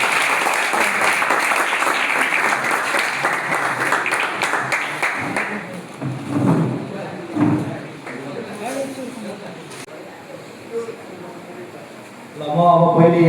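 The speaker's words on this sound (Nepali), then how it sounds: "सबैजनाले ताली बजाउने।" Applause from an audience at a school celebration of Bhanubhakta's birth anniversary, dense clapping for the first several seconds that then thins out into scattered claps, knocks and shuffling.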